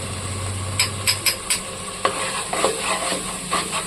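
Cloves, cardamom, cinnamon, pepper and turmeric frying in a pan for paneer matar masala, a soft sizzle under a run of sharp metallic spoon clinks and scrapes against the pan.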